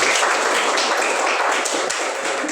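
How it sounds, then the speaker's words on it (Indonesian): A group at a school activity gives applause for everyone, dense continuous clapping at close range, steady and loud for the whole stretch. "Tepuk tangan untuk semua"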